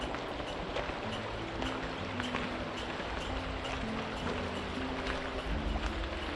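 Steady rushing water of Pine Creek, a fast, river-sized mountain creek, a constant broad wash with faint low rumbles, continuous and even throughout with no voices.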